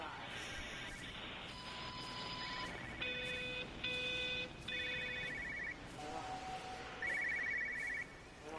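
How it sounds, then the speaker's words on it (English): Telephone ringing in the video game Everybody's Gone to the Rapture: several short electronic ring bursts over a steady ambient game background, moderately loud and repeating. "Phone."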